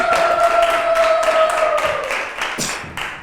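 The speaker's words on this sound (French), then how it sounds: "on applaudit pour Shema" An audience at a children's holiday gathering of recitations and poems, with kids visiting from Kigali, claps in a string of sharp, close bursts that thin out toward the end, over a faint sustained tone.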